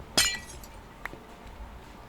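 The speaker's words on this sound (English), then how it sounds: "So I need to remove glass all the way from here." In the Minecraft video game, a glass block breaks with one sharp, bright shattering clink. A fainter second crack follows about a second later.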